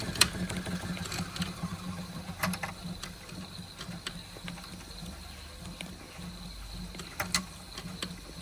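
Wilesco D24 toy steam engine driving a Fleischmann blacksmith workshop model: a steady mechanical whir with rhythmic ticking and light metallic clacks of the moving parts, close-up and fairly quiet, no talking.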